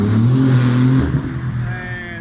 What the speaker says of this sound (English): and then we got a GT2 RS going. That sounded so good.